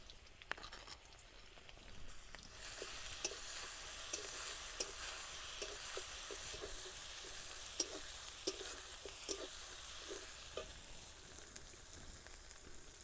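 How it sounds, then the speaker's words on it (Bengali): Ginger garlic paste and chopped onion fry in a pan with a continuous crackling sizzle, dotted by occasional sharp pops and light stirring clicks. "আদা রসুনটা আমার ভাজা ভাজা হয়ে গেছে"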